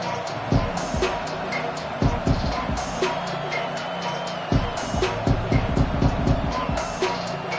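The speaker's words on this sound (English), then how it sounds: "The crowd electric, trying to help Tech on this 3rd down." A stadium crowd roars at a college football game with Texas Tech on third down, a steady dense wall of noise with bursts of cheering and thumping throughout.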